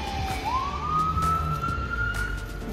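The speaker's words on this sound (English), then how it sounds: "The ambulance coming." An ambulance siren rises and then holds a steady wail as the vehicle speeds around a corner after a pickup truck crash, heard from a distance over low street and traffic rumble.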